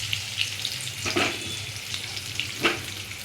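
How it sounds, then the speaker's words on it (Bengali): Steamed potatoes frying in oil, a close, steady sizzle with a few sharper crackling bursts spread over a few seconds. "এবার ভাপিয়ে রাখা আলুগুলোকে তেলের মধ্যে তুলে দিয়ে ভালো করে ভেজে নেব।"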